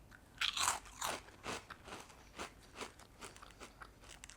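Crisp, close crunching as baked cheese chips are bitten and chewed, roughly a dozen sharp crunches in a steady rhythm.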